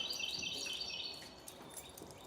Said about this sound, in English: We have quite a bit of birds in South Carolina.